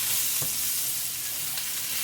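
Garlic and ginger sizzling steadily in a hot pan while being stirred, a dense close frying hiss with faint scrapes from the stirring and no talking.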